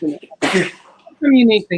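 A person sneezes once, a sharp burst, with someone talking just before and after it.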